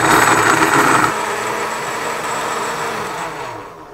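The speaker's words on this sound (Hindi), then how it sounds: "इसको मैंने तकरीबन 3 मिनट चलाया है ग्राइंडर को" An electric kitchen grinder blends dates with milk into a milkshake, a loud steady whirring motor that drops to a lower hum after the first second and winds down toward the end, with no talk.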